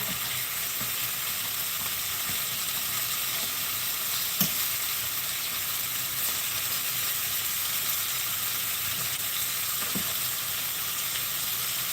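Honey ginger lamb chops sizzle and fry steadily in an oiled pan as they glaze, a constant close hiss with a couple of faint clicks.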